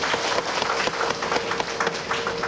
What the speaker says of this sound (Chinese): 再次热烈掌声，感谢两人之慈悲